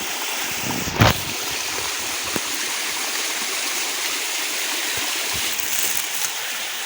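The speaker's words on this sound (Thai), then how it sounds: "แต่จะมีน้ำตกตัดแน่" A stream rushes through deep mountain forest toward a fairly tall waterfall, a steady broadband roar of flowing water with a brief sharper splash near the start and no voices.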